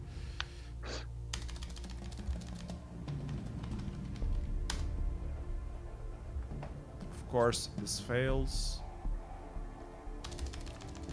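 Keys clatter on a PC desktop computer keyboard in scattered bursts during an online tournament session, soft taps under a man's muttered speech, with a couple of sharper key strikes.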